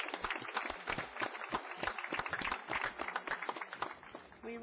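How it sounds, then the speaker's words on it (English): Applause from a crowd at an outdoor Memorial Day ceremony, a dense patter of many hands clapping steadily at moderate distance, with some chatter mixed in and a brief tonal sound at the very end. "Another round of applause for this wonderful gentleman."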